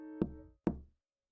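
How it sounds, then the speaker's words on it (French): In a cartoon, a wolf knocks on a grandmother's wooden door. Two firm knocks sound close and clear, spaced about half a second apart, followed by silence. "Il frappa à la porte."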